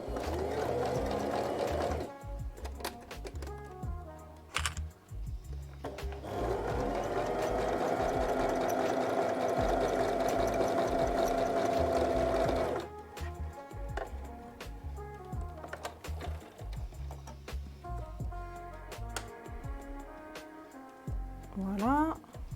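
Domestic sewing machine stitching a Verveine pyjama, running in steady mechanical bursts: a long continuous stretch in the middle and shorter stop-start runs around it, close and fairly loud, with a person talking intermittently between runs.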